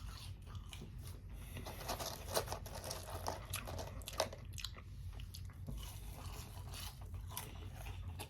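Crunchy biting and chewing of Wendy's fries, close to the mic, with irregular crinkles and soft mouth sounds over a steady low background hum.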